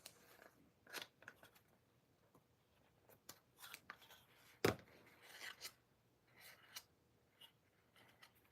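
Quiet, scattered snips and crunches of scissors cutting through cardboard, irregular and close, with one sharper snap midway.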